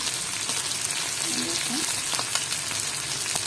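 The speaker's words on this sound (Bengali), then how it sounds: "সরষের তেল আর পেঁয়াজটা দিলাম।" Onion hits hot mustard oil with a dense, loud sizzle, joined by steady stirring and spitting crackles, close up and without speech.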